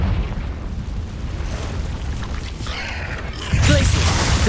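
A Confringo fire spell blast in the video game Hogwarts Legacy, a sudden loud booming burst near the end following a rumbling cave ambience.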